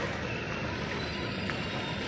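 A water taxi motoring past a gondola on a Venice canal, a steady broad engine and water wash rushing continuously at close range.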